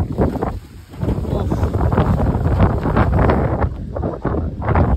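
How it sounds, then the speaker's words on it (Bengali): Storm wind gusts hard around a home surrounded by many trees, roaring and buffeting the microphone in loud, uneven surges throughout. "হচ্ছে ঝড়।"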